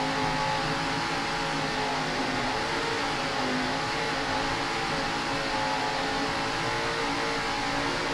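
Offshore racing boats powered by Mercury engines roar at the green flag in a Key West race, a loud, continuous, dense engine drone that holds steady throughout without pauses.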